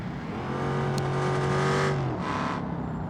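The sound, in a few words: race car engine accelerating in BeamNG.drive video game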